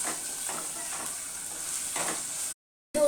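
Onions frying in a pan for veg hakka noodles, a close steady sizzle with rhythmic stirring swells, cut by a brief silence before the sizzle resumes.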